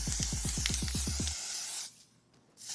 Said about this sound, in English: we're gonna take your foundation and you're just gonna wanna lightly spray it, just a mist